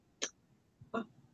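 Two short, sharp bursts close by, like a woman's small stifled sneeze followed by a second one, with quiet between them.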